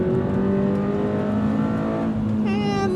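A Toyota GR86 engine with its 6-speed automatic hums steadily from inside the cabin, a sustained drone that shifts pitch near the end as the gearbox changes gear and revs climb.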